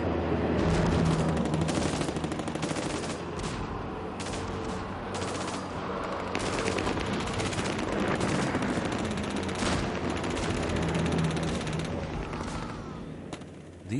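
Machine guns fire in sustained, loud bursts during a World War II SAS jeep raid through a German-occupied village, a dense, continuous rattle of rapid shots with booming impacts filling the whole stretch.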